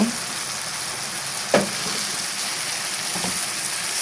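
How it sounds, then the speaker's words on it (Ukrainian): Mushrooms and eggplant fry together in a pan as an even, steady hiss of sizzling, with one soft knock partway through and no talking. "Зараз грибочки пустять свій сік, а обсмажувати потрібно доти, поки сік випарується."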